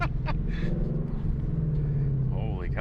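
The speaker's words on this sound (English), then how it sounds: "Holy cow, that rev match downshift too?" A 2019 Ford Mustang GT engine blips for a rev-matched downshift. The steady engine drone inside the cabin rises in pitch near the end, with people talking over it.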